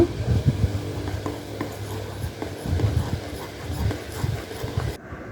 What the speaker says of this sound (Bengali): এখন আমি এগুলোকে ভালো করে মিশিয়ে নেব